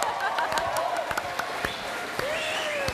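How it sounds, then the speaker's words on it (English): Applause from the audience at the 2014 NZ Radio Awards ceremony: dense, steady clapping from many hands that fills the room, with a voice speaking over it. "So when it comes to applause, you're going to have to top that."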